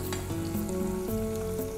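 Small red chili peppers deep frying in oil give a continuous crackling sizzle, with a faint steady tonal hum underneath and no talking.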